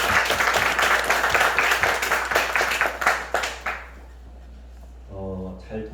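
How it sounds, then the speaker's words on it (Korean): A church congregation claps together in praise during a worship service, a loud dense burst that thins into scattered claps and fades out, followed by a brief soft trailing sound. "박수로 하나님께 영광 돌리겠습니다."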